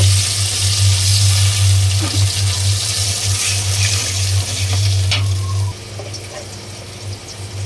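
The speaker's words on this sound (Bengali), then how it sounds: "আদা রসুন আমার ভাজা হয়েছে, এখন পরিমাণ মতো পানি দিয়ে ভালো করে কষা নেব।" Ginger garlic paste sizzles in a pan with a splash of water for a fish bhuna, a loud, steady frying hiss with occasional stirring scrapes and a low hum beneath, easing slightly toward the end.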